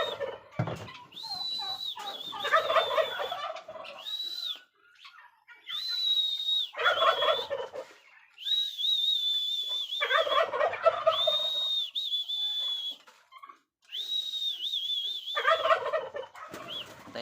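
Turkeys being fed gobble repeatedly in loud, close bursts, with short pauses between the rattling calls and no talk.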